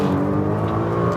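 A Nissan GT-R accelerates hard on a racing circuit, its engine droning in a steady, loud, sustained roar through the gears, close up and without speech.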